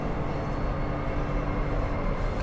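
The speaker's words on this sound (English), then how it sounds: "It's just the train moving, so that's why." Commuter train running on the Armadale to Cockburn Central line, heard from inside as a steady rumbling rail drone with a faint hum, continuous and fairly loud with no voices.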